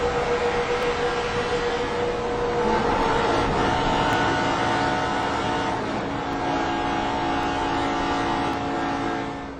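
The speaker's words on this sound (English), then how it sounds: "Let's listen to Junior's onboard, see if that helps determine what happened here" Onboard engine roar from a NASCAR stock car during a crash involving Dale Earnhardt Jr., a loud sustained racing engine drone with shifting pitch and whining tones, continuous and close throughout, no talking.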